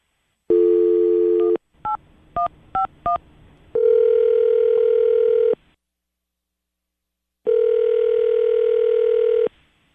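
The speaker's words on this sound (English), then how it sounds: "while the phone rings" A telephone call placed live on a radio show: a dial tone, then a quick run of keypad dialing beeps, followed by two long ringback tones with silence between them.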